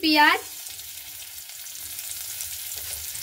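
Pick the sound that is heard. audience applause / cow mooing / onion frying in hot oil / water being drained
onion frying in hot oil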